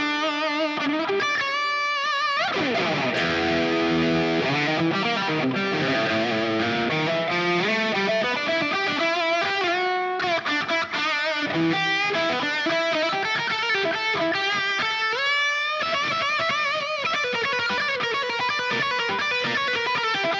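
A Richie Kotzen signature Telecaster electric guitar with heavy distortion plays loud, sustained lead lines and bends, with a thick, saturated tone throughout.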